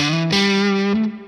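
Electric guitar played through a TC Electronic Dark Matter distortion pedal, a few loud sustained overdriven notes with gain around noon and boosted bass, each ringing bright and thick before cutting off near the end.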